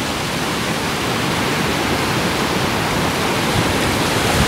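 Strong wind and choppy waves on open water during a duck hunt, a loud continuous rushing wash with no distinct breaks, close and steady throughout.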